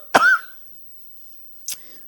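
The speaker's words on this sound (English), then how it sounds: "I'm sorry for the coughing." Two coughs: a sharp, hoarse cough up close, then a short, lighter cough after a brief pause.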